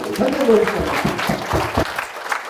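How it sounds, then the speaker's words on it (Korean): Warm welcoming applause from the audience at a Korean policy concert on youth delinquency and crime prevention, rolling clapping with a voice speaking over it. "뜨거운 박수로 환영합니다"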